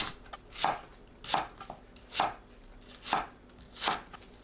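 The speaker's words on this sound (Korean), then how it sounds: "파, 청양고추를 어슷 썰어주세요." A knife cuts green onion and cheongyang chili peppers diagonally on a cutting board, giving about five crisp, evenly spaced chops that stand alone and close.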